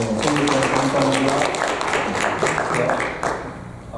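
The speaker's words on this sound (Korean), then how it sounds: "선교 박수합시다" Church congregation clapping during a Korean Presbyterian Sunday service, a continuous brisk patter of many hands that fades slightly near the end, heard alongside a voice.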